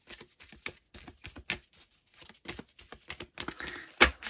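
Tarot cards being shuffled by hand, a quick run of crisp riffling flutters and taps in short bursts with brief pauses and a sharper slap near the end.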